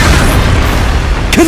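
The Expulso explosion spell in Hogwarts Legacy erupts as a loud, close, continuous booming blast, with a short bright burst near the end and no voices.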